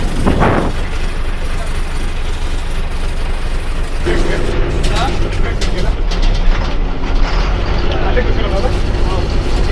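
A state transport bus idles at Ambad bus stand, with a low steady engine rumble, surrounding crowd noise and a few clanks, while a person talks over it.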